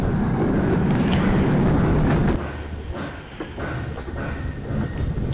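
A passenger train heading toward Khulna railway station, a steady rumble of wheels on rails that drops in level partway through, with faint clicks and creaks continuing.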